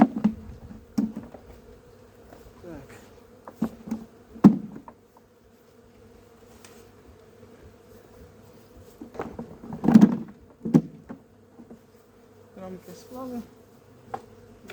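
Honeybees buzz around an open beehive while the frames are handled, a steady insect drone with louder bursts of close buzzing and occasional knocks of wooden frames and the hive cover.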